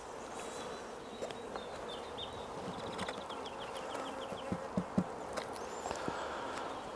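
Honey bees buzz around a Langstroth hive, a soft steady hum with individual bees darting close by, their buzzing rising and fading, with faint light taps underneath.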